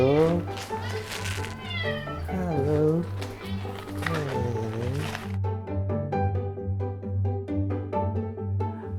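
Cats meow repeatedly in a cat cafe, clear and close, with a person's voice talking over them and a low steady hum underneath.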